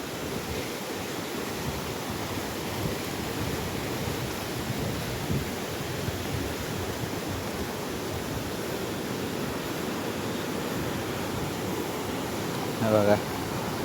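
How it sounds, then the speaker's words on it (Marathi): A monsoon waterfall at Siddhagad thunders as a broad, steady roar of rushing water mixed with wind buffeting the microphone, continuous throughout, with a brief clatter near the end. "उलटा पाण्याचा धबधबा आमच्याकडे."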